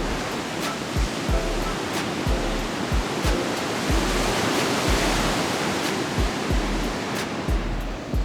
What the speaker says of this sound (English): Taking time to soak in the sunset and listening to the sounds of the ocean